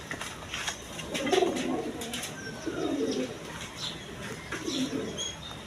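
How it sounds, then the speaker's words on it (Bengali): A pair of high-flying Giribaz pigeons coo in low, soft, rolling phrases, several bursts repeating close by against faint background noise. "এক পেয়ার গিরিবাস কবুতর আছে হাই ফ্লাইং গিরিবাস কবুতর"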